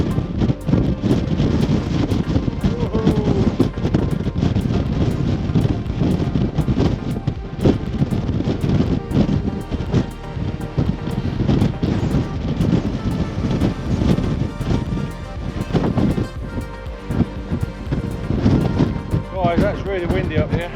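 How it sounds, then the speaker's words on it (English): Strong wind high on a mountain above a lake near a waterfall, heavy, constant microphone buffeting and roaring gusts throughout, loud and close, with a person speaking breathlessly beneath it. "it is extremely windy"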